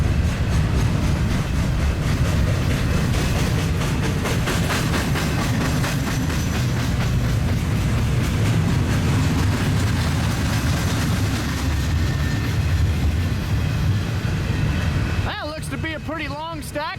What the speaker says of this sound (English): To be a pretty long stack train.